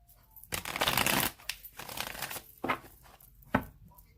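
Tarot cards being shuffled by hand, a series of loud riffling bursts with brief pauses between them, followed by a few sharper single snaps of the deck.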